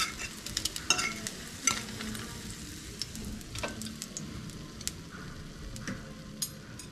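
Eggs for chips mayai fry in a pan with a steady crackling sizzle, punctuated by sharp scraping and stirring clicks from a utensil, close and clear with no talk.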